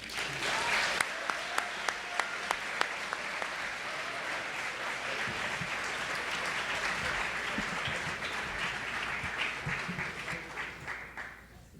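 An audience applauds steadily for about twelve seconds as a speaker is welcomed to the podium. The clapping is dense and sustained, with a few sharp individual claps standing out near the start before it fades at the end.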